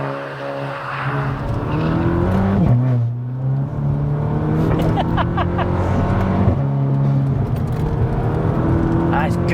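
A VW Polo GTI Clubsport's exhaust hums with a deep, droning bass while driving, rising and falling with throttle changes beneath ongoing conversation inside the car.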